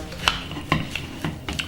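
Coconut rocher dough is stirred in a bowl, a utensil knocking and scraping against the side in several distinct taps spaced through the moment, fairly close, with no one talking.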